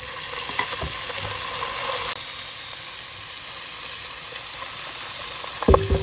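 Tomatoes fry in a pan with ginger and garlic for a radish and radish-leaf curry, a steady, close sizzle that runs throughout, with a brief clatter of a utensil near the end.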